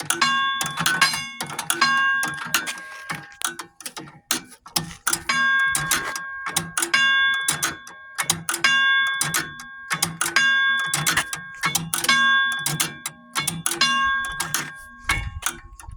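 Railroad wig wag crossing signal bell struck by two hammers, ringing in a fast, steady, loud repeated clang with ringing overtones, close up and alone.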